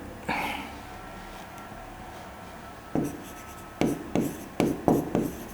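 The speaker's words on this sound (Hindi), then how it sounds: "हाईलाइट कर कर लिख दे रहा हूं।" A pen scratches out notes and highlights during a lecture on the Andaman and Nicobar Islands, giving short, close scratchy strokes in a loose rhythm against a steady hum, with no talk.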